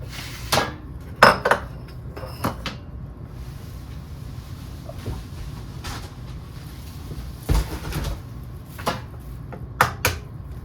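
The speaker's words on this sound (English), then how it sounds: "I'm gonna go ahead and crack my eggs." Six eggs cracked against a bowl edge for meatloaf in a home kitchen, a few sharp taps and clicks spaced irregularly, with dishes clinking and faint kitchen noise between.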